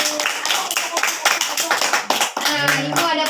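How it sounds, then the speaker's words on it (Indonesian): Pupils in a classroom clap together in a brief burst of dense hand claps, with voices talking over and after the clapping. "Ayo semuanya tepuk tangan."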